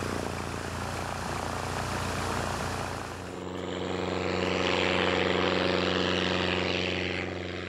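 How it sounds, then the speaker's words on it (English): Propeller airplane flying over Costa Rica, a steady droning engine hum that shifts to a stronger, tonal propeller roar swelling and fading in the second half. "The only way to get around the road conditions is to take a plane."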